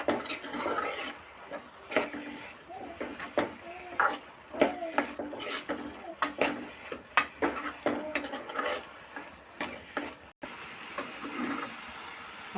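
Ginger-garlic paste and onion-tomato gravy stirred in a pan for a home-style chicken gravy, a spoon repeatedly scraping and knocking the metal over a soft sizzle, close and steady with no talk.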